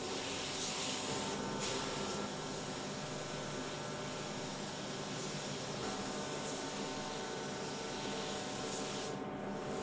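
A paint spray gun lays down a final wet custom-paint coat in a continuous, steady hiss that stays loud and even throughout, with a brief break near the end.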